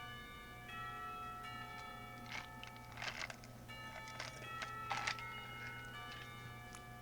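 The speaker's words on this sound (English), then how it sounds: "The bells ring for lunch break" Lunch-break school bells ring in Katawa Shoujo, a set of faint, sustained, resonant tones with a few soft struck accents over a low hum.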